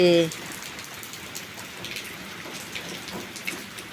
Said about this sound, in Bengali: এরকম সারা রাত বৃষ্টি হলে ঘরে ঢুকে যাবে জল